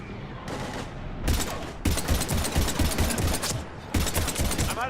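Heavy gunfire from the Mass Effect 3 game as the crew flees Earth, dense bursts of rapid automatic shots and blasts in loud clusters with brief lulls between them, filling the scene with continuous combat noise.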